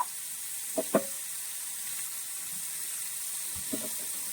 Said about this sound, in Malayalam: ഇത് ഷാലോ ഫ്രൈ ചെയ്താൽ മതി, ഡീപ് ഫ്രൈ ചെയ്യേണ്ട ആവശ്യമില്ല